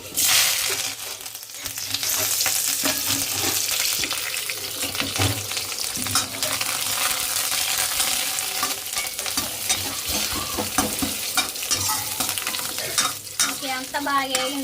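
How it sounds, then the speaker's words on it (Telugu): Vigorous frying in hot oil with chillies, curry leaves and onions crackling, plus repeated stirring and spatula scrapes against the pan, close and busy. "ఎండుమిరపకాయలు కరేపాకు ఉల్లిపాయలు వేసుకున్నాం"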